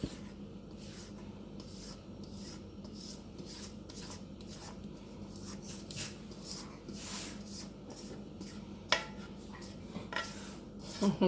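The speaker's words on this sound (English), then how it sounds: "My dog's in the back rolling around" Rubbing, scraping and shuffling from a dog rolling around at the back of a kitchen room, a steady low muffled texture with a few sharper knocks near the end.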